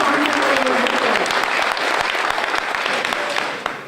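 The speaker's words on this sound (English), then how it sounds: "Please join me in giving them all a round of applause" An audience at a community college culinary arts center grand opening applauds, dense clapping that holds steady and tapers off near the end.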